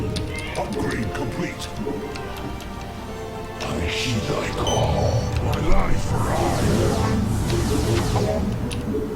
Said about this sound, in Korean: 고양이 저두마리야요